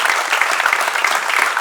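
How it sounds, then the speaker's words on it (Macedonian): A crowd applauds Ohrid firefighters at a Firefighters' Day ceremony, brisk continuous clapping with a few sharper individual claps standing out. "сакам сите со еден громогласен аплауз да ги поздравиме хероите на градот, нашите пожарникари"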